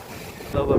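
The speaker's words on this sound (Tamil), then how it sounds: "சரியான காற்று" Strong wind buffeting a microphone outdoors at night near the shore in Jaffna, a steady rushing roar that swells louder near the end, with no speech.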